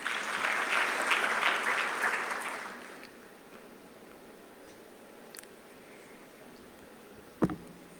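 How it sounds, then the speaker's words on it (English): A conference audience in Botswana applauds program directors, a dense burst of clapping for about three seconds that dies away into room quiet, with a couple of isolated sharp knocks later. "A round of applause, please, for our program directors."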